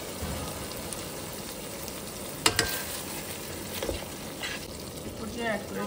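Almond paste and spice masala frying in a pan for a Bangladeshi shahi chicken pulao, a dense, even crackling sizzle like rain, with a couple of sharp utensil knocks partway through.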